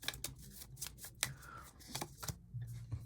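Zombie cards for a board game being shuffled at close range, a run of quick papery riffles and taps with brief pauses, quiet and unaccompanied by talk.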